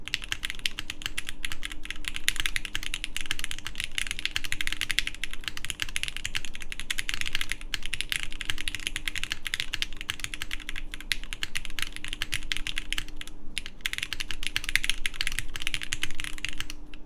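Continuous typing on a Yan Studio Qi65 mechanical keyboard fitted with GMK keycaps, a steady close stream of muted clacks with no talking.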